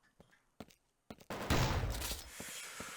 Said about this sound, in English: I guess just pick off a pistol shot